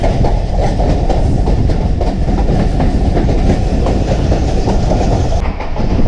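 A passenger train runs along the rails, loud and close, with rhythmic clickety-clack from the wheels over a constant rumbling roar and no voices.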